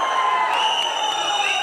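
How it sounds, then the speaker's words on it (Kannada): Crowd cheering with whoops at a public event honouring actor Sudeep, a sustained wash of voices and faint clapping, loud and steady throughout. "ಜೋರದ ಚಪ್ಪಾಳೆಯ ಮುಖಾಂತರ ಇದನ್ನ ಮರೆತುಕೊಳ್ಳಿ."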